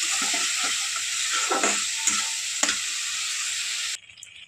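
Ground pepper and cumin stirred and frying in a pan as a spice base for a fish curry, a steady close sizzle broken by scraping stir strokes, cutting off abruptly near the end.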